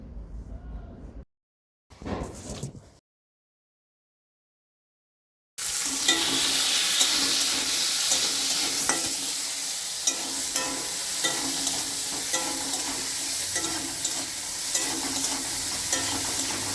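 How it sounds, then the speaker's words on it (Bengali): After a few seconds of near silence and brief muffled sounds, fenugreek greens and eggplant start frying in a pan with a dense, continuous sizzle and faint stirring scrapes that stay steady to the end. "এখানে আমি রান্না করছি মেথির শাক ভাজা করছি বেগুন করে দিয়ে"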